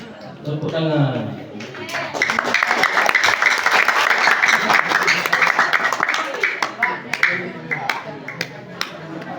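Audience applause at an Islamic book reading competition, a burst of clapping that swells and then tapers off, with a speaking voice before and around it.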